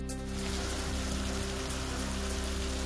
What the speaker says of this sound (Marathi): नाशिक जिल्ह्यामध्ये अवकाळी पावसाची जोरदार हजेरी